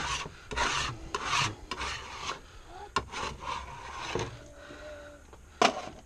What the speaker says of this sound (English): I try to scoop up as much as possible using a scraper